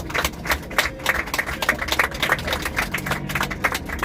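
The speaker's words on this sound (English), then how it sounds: "You could have a round of applause for Ross" A tour-bus group applauds their driver, a steady patter of many hands clapping at close range for about four seconds with no talking.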